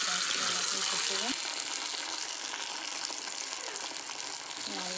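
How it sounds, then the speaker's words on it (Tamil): Cashews and raisins fry in hot ghee in a pan with a continuous soft sizzle and occasional stirring scrapes, faint and steady, while a voice talks over it. "திராட்சை நல்லா இதுவாகட்டும், கொஞ்ச நேரம் நல்லா பொரியட்டும்."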